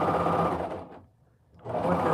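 A serger whirs rapidly as it stitches fabric, briefly slowing to a stop before revving back up; close and steady, no talking.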